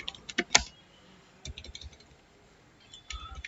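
HTML code being typed on a computer keyboard, short bursts of quick key clicks separated by a quiet gap, close and moderately soft with no voice over them.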